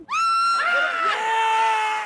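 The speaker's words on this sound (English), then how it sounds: "A scream club is a group of people coming together to just scream." A group of people at a scream club let out long, loud, sustained screams together, several high voices overlapping and shifting pitch in one unbroken outburst lasting about two seconds.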